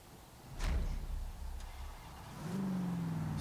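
An AMC car in Forza Horizon 3 drives off, its engine rumbling low and then rising into a steady drone near the end, heard alone and fairly faint.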